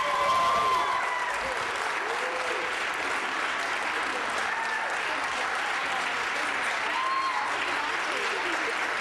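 Steady, dense audience applause fills a room, loud and continuous from start to finish with no pauses.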